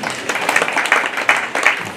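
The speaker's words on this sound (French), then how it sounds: "Applaudissez pour vous-même." A festival audience at the Bia So Mengong cultural celebration claps in a dense, continuous burst of applause lasting a couple of seconds, close and fairly loud.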